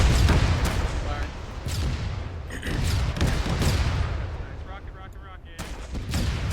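Rocket launcher rounds fired on an Arma 3 anti-tank training range: repeated loud, sharp blasts with rolling echoes, several shots in quick succession, mixed with brief speech.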